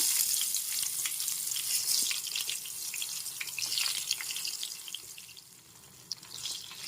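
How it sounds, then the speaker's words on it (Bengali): Pointed gourd (potol) pieces go into very hot oil in a kadai, giving a loud, hissing sizzle with crackling spatters that eases slightly over several seconds, with no talking. "তেল খুব ভালোভাবে গরম হয়ে গেছে এবার দিয়ে দিচ্ছি পটলগুলো ভেজে নেওয়ার জন্য"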